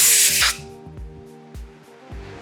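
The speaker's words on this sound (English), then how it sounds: "I'm going to use compressed air to help slide it off easier." Compressed air blasting under a Suzuki SG400 motorcycle handlebar grip to loosen it; a loud, close hiss for about half a second, followed by quieter rhythmic thumps as the grip is worked.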